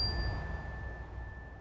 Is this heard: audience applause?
no